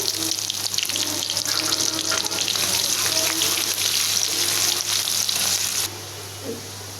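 Onions sizzle and fry steadily in hot oil with bay leaf and cumin paste for a dal and stalk curry, a dense continuous crackle at close range that drops away sharply near the end.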